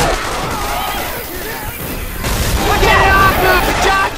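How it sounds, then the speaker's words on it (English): A pipe bomb goes off in Left 4 Dead 2 Scavenge: a series of loud booming blasts and crashing impacts over chaotic game noise, growing heavier toward the end, while players talk over it. "Pipe bomb out."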